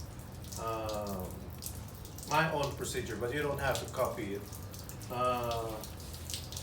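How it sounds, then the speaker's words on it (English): Water running out of a car's cooling system and pouring straight onto a workshop floor makes a steady, moderate splashing trickle, with someone speaking over it at intervals. "We are just draining it direct to the floor because this is just water."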